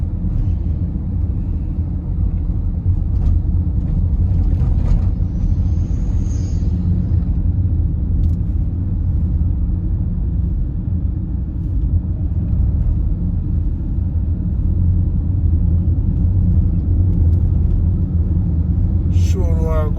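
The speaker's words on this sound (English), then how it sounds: "Santa Cruz have been one of the towns with a lot of traffic." Road traffic through Santa Cruz town in St. Elizabeth, Jamaica: a steady, loud, close rumble of passing vehicles that runs unbroken throughout, with brief higher noises and a short squeal near the end.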